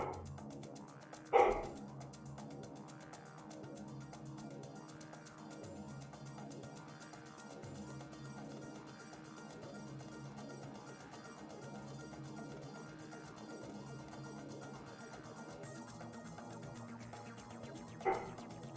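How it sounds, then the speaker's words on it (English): A dog barks outside a room, two brief sharp yelps spaced far apart, heard faintly through steady game music and background sound. "And the dog's barking, and the stream is picking that up."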